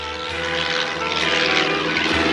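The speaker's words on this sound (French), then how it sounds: "Tu vois, Clémentine, si mes roues touchent le V au moment où on atterrit, on gagne." A cartoon airplane comes in to land, its propeller engine droning loud and steady throughout with a broad rushing roar and no voices.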